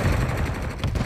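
Rapid gunfire in a Call of Duty: Modern Warfare 3 multiplayer match, a dense, loud, close burst of shots lasting about a second.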